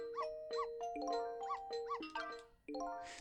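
Dog barking in the Ghost Trick video game, a series of about six quiet, tonal, synthesized-sounding barks in a loose rhythm, heard alone with no talk.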